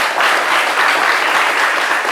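Sustained audience applause greets a comedian taking the stage at a televised Ivorian event, a dense steady clatter of many hands clapping, loud and unbroken throughout with no voices over it.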